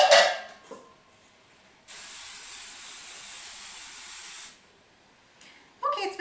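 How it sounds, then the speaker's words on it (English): A cooking spray can hisses in one steady burst of about two and a half seconds, greasing a pan, with brief handling noises before and after. "Instead of using butter, I'm going to use spray."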